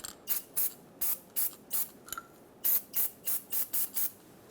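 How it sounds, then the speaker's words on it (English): Short bursts of hissing aerosol anti-seize spray onto the tie rod adjustment sleeve threads of a 2003-2009 Dodge Ram 2500, about a dozen quick puffs in an irregular rhythm, close by and otherwise quiet. "So spray some anti-seize on these threads."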